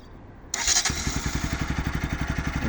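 A Viper ZS 200 or Bajaj Pulsar NS200 motorcycle engine cranks and catches after a short pause, then settles into a loud, rhythmic thumping idle up close.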